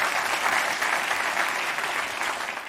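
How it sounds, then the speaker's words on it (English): A crowd at a talk claps steadily for two volunteers, a brief, even wash of applause at moderate level with no voices standing out. "Round of applause for our 2 volunteers."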